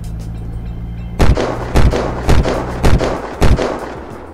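Gunfire in the survival game Unturned: five loud, heavy booming shots at a steady, roughly half-second rhythm, each with a thudding low tail.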